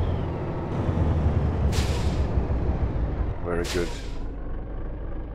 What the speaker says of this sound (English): Now I was just demonstrating the motor brake sound.